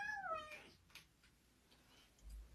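A cat meows once, a short, clear, close falling meow at the start, followed by quiet faint shuffling and low rumble.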